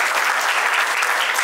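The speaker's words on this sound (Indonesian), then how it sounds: "Tepuk tangan juga untuk kita semuanya." Audience applause at a company anniversary and product launch event, a dense, steady wash of many hands clapping, loud and close, with no talk over it.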